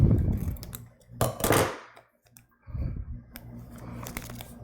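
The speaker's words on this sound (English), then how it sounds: "I need a pair of scissors and cut this open" Small snips and crinkling plastic as scissors cut open a packaged part during a $3000 gaming computer build, a few short bursts with a quiet pause between.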